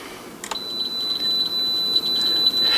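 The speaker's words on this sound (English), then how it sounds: "we'll just put one probe here and another probe here, and it beeps" A steady high-pitched continuity beep from a multimeter as its probes touch a fuse inside a NuTone NM100 radio intercom master station, one sustained tone lasting about two seconds, close and clear in a quiet room.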